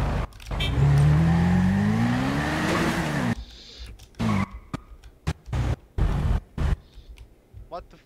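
A car in a video game accelerates hard with a rising engine whine and skids, then the sound cuts into choppy bursts as people talk over it.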